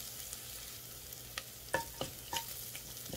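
Curry leaves and browned ginger frying in oil, a soft steady sizzle with several crisp pops and spatters toward the end, close but fairly quiet, no voices.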